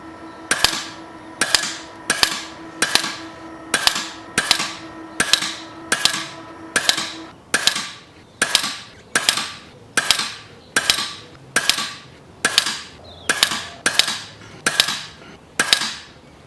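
An air gun firing unlubricated pellets, about twenty sharp, loud, close reports at a steady pace of roughly one shot per second, each with a short ringing tail, with no speech.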